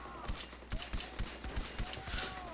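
Rapid gunfire in Far Cry 4 on PS4, a series of sharp bursts in quick succession, moderately loud against a busy game soundscape.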